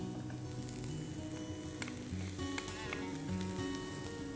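Peppers, baby corn, carrots and American corn sauté in a pan for spaghetti sauce, giving off a faint, continuous sizzle with light clinks and faint background sounds.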